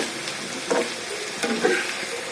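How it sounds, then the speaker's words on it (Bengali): Bitter gourd (karela) frying in a pan gives a steady soft hiss with a few brief louder crackles, heard alone and close. "আমি এইভাবে করলা ভাজি করি"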